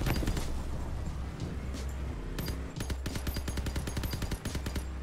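The legendary M-39 machine gun firing in the vehicle combat game Crossout, a steady loud stream of rapid shots with a short pause, then another sustained burst of evenly spaced rounds.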